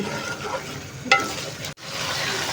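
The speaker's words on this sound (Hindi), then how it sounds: "फिर भुनाई करनी है हमने ऑयल के अंदर मटन की।" Mutton browning in about half a cup of hot oil gives a steady close sizzle, with one brief clink of a utensil and a short sharp drop in the sound partway through.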